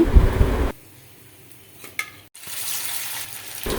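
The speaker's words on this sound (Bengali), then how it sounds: "এভাবে সবগুলো বোড়া আমি ভেজে নিব" Prawn fritters (bora) made with shrimp frying in hot oil, a loud sizzle that breaks off to near silence, returns briefly with a clink, then swells back into steady frying.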